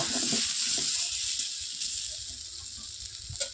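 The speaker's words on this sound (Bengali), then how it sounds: "ভালো করে নাড়াচাড়া এদিকে ওদিকে নাড়িয়ে চাড়িয়ে আলুটা প্রায় ভাজা ভাজা হয়ে গেছে আর কি" Potatoes fry in hot oil in a wok, giving a steady, close sizzling hiss with a few stirring scrapes near the end.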